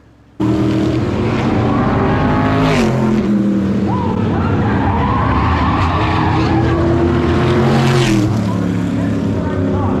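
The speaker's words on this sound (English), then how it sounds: "The third place car spins out, and then the leaders get hooked up coming to yellow." Race cars roar and skid with screeching tires as a car spins out during a modified race at New Smyrna, engines loud and close, a crowd or commentary murmuring underneath throughout.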